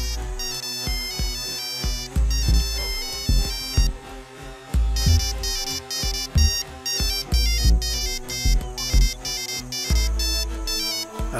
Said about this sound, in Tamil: யார் இந்த நேரத்தில் ஃபோன் பண்ணுறேன்?